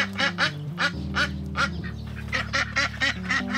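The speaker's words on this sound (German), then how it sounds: "in der der Hahn kräht, die Ente schnattert" Ducks on an urban farm in Detroit quack in a quick run of short, nasal calls, fairly close, with steady background music playing beneath them.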